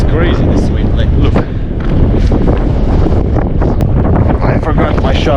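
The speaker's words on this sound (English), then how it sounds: "it's crazy this wind" Strong gusting wind roars during a snowstorm at a mountain bivouac, buffeting the microphone loudly and continuously for the whole stretch with little letup.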